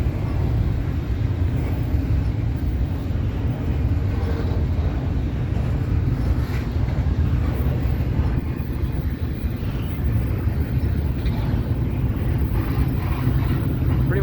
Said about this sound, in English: Every train I've seen today for CSX has been massive